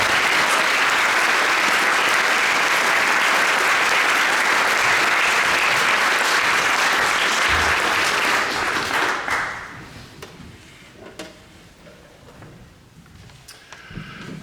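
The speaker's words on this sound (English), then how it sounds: "let's give a round of applause to all our performers who've come back." A concert audience at a young musician competition gives sustained, dense applause for the performers, loud and full for about nine seconds before fading to scattered claps and quiet room noise.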